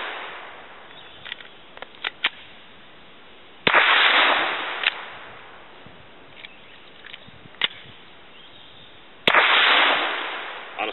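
Suppressed Glock 9mm pistol fired at an outdoor backstop: two loud, sharp reports several seconds apart, each followed by a noisy tail, with faint clicks and handling sounds between them.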